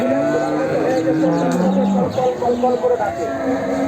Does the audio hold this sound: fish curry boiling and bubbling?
no